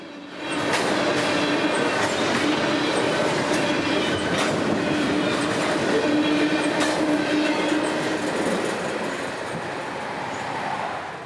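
A southbound ethanol freight train rolls steadily past, loud and close, with rhythmic clickety-clack of wheels over rail joints and a sustained squealing tone from the wheels, continuous and without talking.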